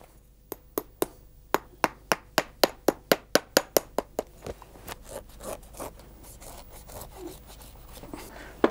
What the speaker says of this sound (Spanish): Volvemos a clavar.